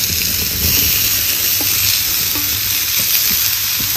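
Washed, chopped cucumber goes into hot oil for a village-style Indian bhaji, raising a loud, continuous sizzle with steamy hiss and faint stirring clinks, close up and without talk.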